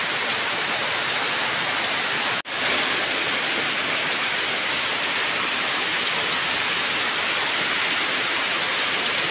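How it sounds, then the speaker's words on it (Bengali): Heavy rain pours down on a remote village in a dense, unbroken roar, loud and close, with a brief dropout partway through and no voices. "বৃষ্টির সাউন্ডে কিছু আমি নিজের কথা নিজেই বুঝতে পারতেছি না"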